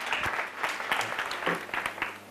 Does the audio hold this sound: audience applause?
yes